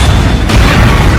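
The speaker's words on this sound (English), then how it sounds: "which then eventually leads it to exploding the potato chip factory" A potato chip factory blowing up, a single loud, dense boom that fills the entire short burst with deep rumble.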